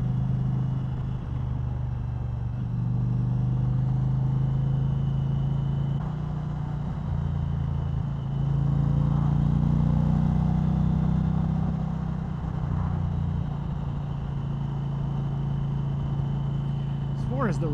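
An Indian Challenger motorcycle engine drones steadily at cruising revs during a road ride, a constant low hum with wind rush, mostly under a rider's talk.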